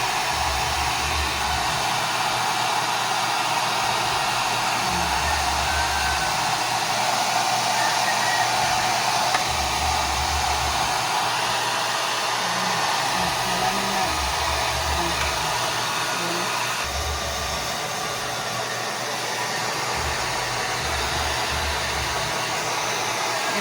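A blow dryer runs steadily and loudly for the whole stretch, drying a pet's thick fur, with a constant whooshing roar and a slight low pulsing but no talk.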